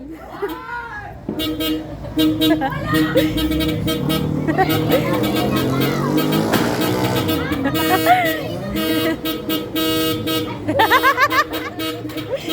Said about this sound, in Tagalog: Pangit ang busina mo, boy!